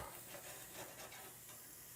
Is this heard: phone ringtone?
no